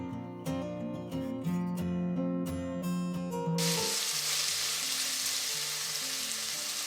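Onions fry in a pan for chicken biryani. After a few seconds of music, a steady, close, crackling sizzle takes over and continues evenly to the end, with no talking.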